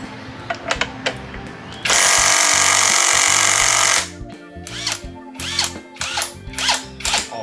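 An electric impact wrench tightening a size 17 nut lets out one loud, sustained hammering whirr of about two seconds, followed by scattered metallic clicks and clanks.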